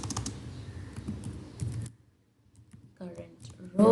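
Rapid clicking on a computer keyboard while code is typed, a quick run of keystrokes up front, a short pause, then a few more taps; a voice talks over parts of it.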